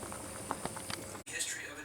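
A pot of food bubbling on a stove in a home kitchen, a soft continuous boiling hiss with small pops and clicks, faint and close, with a brief dropout midway.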